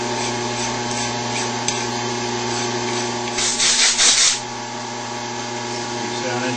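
Metal fuel rail parts for an Ecotec engine are deburred along their edges, giving steady scraping and rubbing strokes with a brief harsher burst midway, over a constant background hum.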